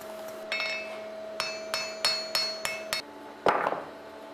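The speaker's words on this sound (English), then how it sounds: "I simply overhang the taper from the edge of the anvil and brush it down evenly" Hammer blows on a steel taper over an anvil while forging a flint striker, a string of sharp ringing metallic strikes in uneven rhythm, close and clear with lingering tonal ring, ending in a heavier blow.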